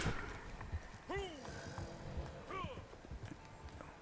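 Horse hooves clip-clop in Red Dead Online, soft irregular footfalls mixed with two whinnies and rustling, faint beneath a man's chatter.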